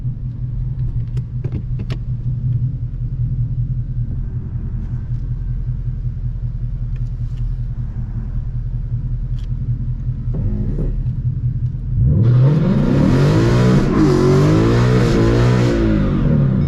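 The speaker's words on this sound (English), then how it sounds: "Now you got 15 seconds to do a burnout." A Ford Mustang idles with a low steady rumble, then the engine revs hard into a loud, sustained roar as the car does a burnout, wavering as the revs climb and hold.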